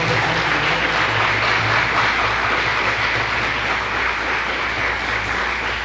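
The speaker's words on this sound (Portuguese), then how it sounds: "Uma salva de palmas para o Senhor Jesus Cristo" A church congregation claps together during a Sunday family service, a dense, loud, steady wash of applause held evenly for several seconds with no voices standing out.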